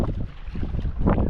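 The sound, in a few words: wind blowing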